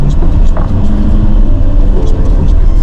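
A car drives at full speed along a rough road in Iceland, a loud steady rumble of engine and road noise with people talking over it.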